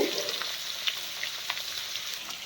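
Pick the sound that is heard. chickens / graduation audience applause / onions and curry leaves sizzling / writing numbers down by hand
onions and curry leaves sizzling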